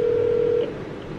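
A steady electronic phone tone hums for just over half a second while a call is placed to a cosmetic lip filler clinic, then cuts to quiet line hiss.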